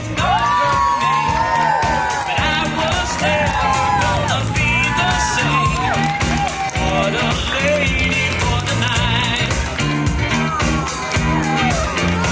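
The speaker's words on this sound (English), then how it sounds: "Big round of applause for Zach and Isabel." Crowd cheers and whoops for a couple named Zach and Isabel, loud continuous shouting and yelling with clapping mixed in.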